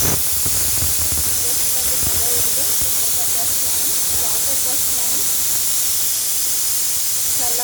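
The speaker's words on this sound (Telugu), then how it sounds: "ఇంకో విజిల్ వచ్చిన తర్వాత కుక్కర్ కట్టేద్దాం" A pressure cooker vents steam while cooking amaranth and sorrel leaf pulusu, giving a loud, steady hiss that runs unbroken for the whole stretch over a low rumble.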